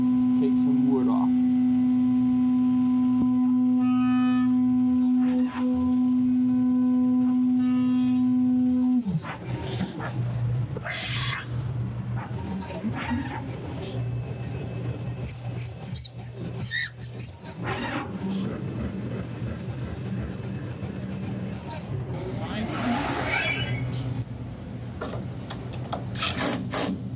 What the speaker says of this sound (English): they need to mill a flat spot so that they can clamp it down when they really take some wood off